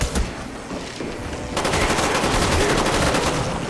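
Dense, continuous automatic gunfire sprays at zombies in a round-based shooter, loud and unbroken throughout, growing even heavier partway through.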